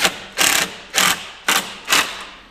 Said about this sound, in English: And then a number 3 Phillips to drive these.